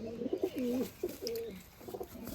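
Pigeons cooing close by, a run of throaty rolling coos in quick bursts with short pauses between, fairly quiet and with no talk.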